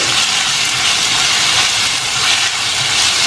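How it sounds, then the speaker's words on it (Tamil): Onion and tomato with ginger-garlic paste sauté in a pan, giving a loud, steady sizzling hiss that runs unbroken throughout with no voices. "ரெண்டுமே சேர்ந்து வதங்கட்டும்."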